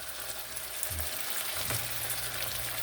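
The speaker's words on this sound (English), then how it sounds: "now start dropping in my potatoes and see how these are doing. See how that oil looks." Sliced fresh potato coins fry in hot oil in a pan, a loud, continuous sizzle with a couple of brief stirring or dropping disturbances partway through, and no one speaking.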